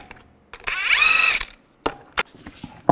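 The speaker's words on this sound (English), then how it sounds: "Take the lug nuts off." A power tool whirs in a short burst of about a second as lug nuts are removed from a 2010-2017 Chevy Equinox wheel with a 22 mm socket, followed by a few sharp clicks and clanks.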